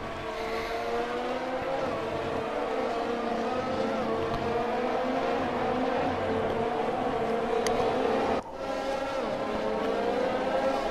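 Formula 1 cars race through the wet Hungarian Grand Prix in F1 2020, high-revving engines whining steadily and shifting pitch as they pass, with one brief cut in the drone partway through.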